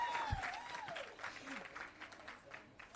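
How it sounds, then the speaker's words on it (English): Steady audience applause at an employee service awards ceremony, with continuous clapping throughout and a voice speaking over it at the start. "Come on, let's keep the applause going."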